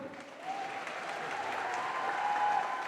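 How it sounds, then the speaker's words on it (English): Audience in a lecture hall applauding a guest fashion designer, a soft, even wash of clapping that swells slightly after a quiet start and holds steady to the end. "Can I have a big round of applause for Rahul?"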